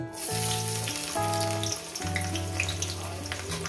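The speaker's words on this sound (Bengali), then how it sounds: "পেঁয়াজ কুচুটাকে দিয়ে একটু লাল লাল করে এক দু মিনিট আমি ভেজে নেব" Chopped onion frying in hot oil for a Bengali brinjal and dried fish mash, a steady broad sizzle with a soft clatter, alongside sustained tonal music notes.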